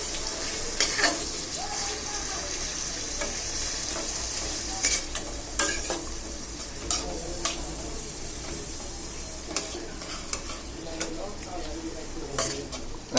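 Vegetables with potato and shrimp frying in a pan during home cooking, with a steady close sizzle and scattered sharp clinks and scrapes of stirring throughout.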